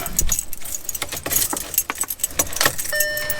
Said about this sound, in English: Now we need to turn the key on.